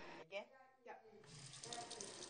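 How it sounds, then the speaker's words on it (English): A bathroom tap with no hot water runs into a sink, a soft steady gush of water that settles into a continuous flow after a brief voice at the start. "This bathroom tap has no hot water"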